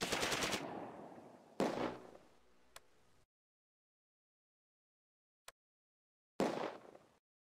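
Heavy machine gun fire in the WWII tactics game Close Combat near Arnhem: a dense rattling burst, then a second shorter volley, a few isolated sharp cracks over silence, and a final burst, loud and near.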